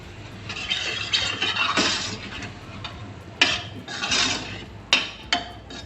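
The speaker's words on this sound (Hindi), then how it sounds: "और साथ ही मैं थोड़ा सा पानी डाल दूँगी, तकरीबन 2 to 3 टेबल स्पून" Water poured into a pan of frying garlic and Kashmiri chili, a sizzling splashy hiss with several sharp bursts and clinks of utensils against the pan, close and fairly loud.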